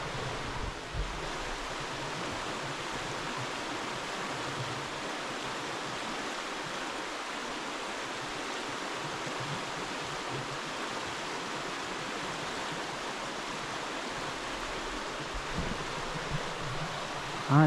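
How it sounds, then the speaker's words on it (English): Rushing river rapid beside an Alabama hiking trail, a steady broad roar of churning water heard close and unbroken. "now check out this rapid down here."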